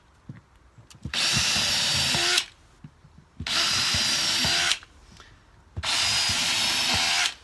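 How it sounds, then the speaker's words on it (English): A power drill whirs in three separate bursts driving screws into plastic decking boards, each over a second, with short pauses and light knocks between them, close and loud. "drilling down with a string line, screwing in"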